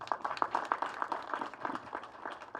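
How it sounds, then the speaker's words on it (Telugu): Audience applause at a film pre-release event: a crowd claps steadily for a couple of seconds, moderately distant and fairly faint, with a dense, rapid patter that softens slightly toward the end. "వాళ్ళ కోసం గట్టిగా చప్పట్లు ఒకసారి"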